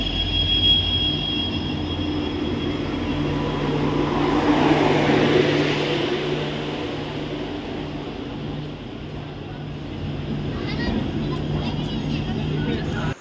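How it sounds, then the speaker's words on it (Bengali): The 22308 Bikaner-Howrah Superfast rolls into platform 1 of Jaipur station before dawn, a steady rumble of wheels with faint squeals and a low hum, while a voice narrates over it. "22-308 বিকানের হাওড়া সুপারফাস্ট প্রবেশ করলো জয়পুর স্টেশনের 1 নম্বর প্ল্যাটফর্মে"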